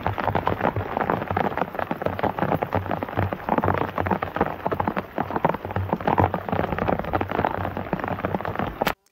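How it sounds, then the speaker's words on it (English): Heavy rain pours onto bare earth in a dense, steady patter of countless drops, loud and close with no voices, cutting off abruptly at the very end. "especially just how hard the rain comes down here"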